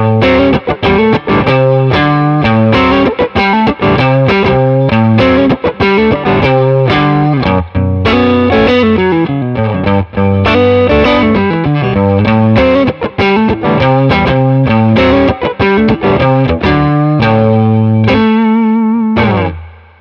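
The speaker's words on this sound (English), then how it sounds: "Without any pedals, just the Strat and the amp." Fender Stratocaster electric guitar played straight into a tube amp with no pedals, a steady run of loud, full chords and single-note lines with a slightly driven edge, continuous for about twenty seconds before fading out.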